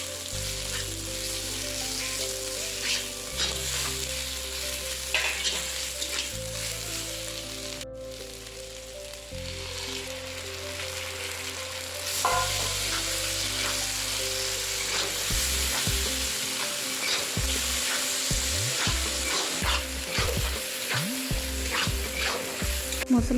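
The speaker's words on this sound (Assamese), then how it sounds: "পিঁয়াজখিনি ৰঙচুৱা হ'লত ইয়াত মই পিচি লোৱা নহৰুখিনি আৰু মছলাখিনি দি দিছোঁ আৰু এইখিনি এতিয়া মই ভালকৈ ভাজি ল'ম" Onions, ground garlic and spices frying in oil in a pan, a continuous close sizzle with stirring and rhythmic scraping of a spatula, with no talking.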